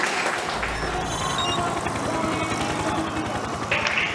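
A large crowd cheers and applauds at the Jakarta E-Prix Formula E street race, a dense continuous roar of a packed grandstand with race cars faintly underneath.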